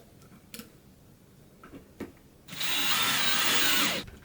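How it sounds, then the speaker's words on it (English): After a few faint taps and clicks, a power drill whirs loudly and steadily for about a second and a half, then stops. "Drill the hole and put the screw to secure it in place."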